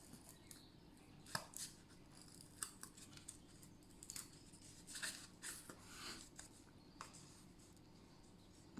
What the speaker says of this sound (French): Donc on découpe nos petits ronds.